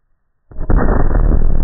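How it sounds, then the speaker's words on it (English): A single loud explosive boom erupts suddenly after silence, a balloon filled with hydrogen and oxygen igniting with a deep blast that holds its roar to the end. "So we're going to do a hydrogen balloon with oxygen mixed in it. It should be fairly loud."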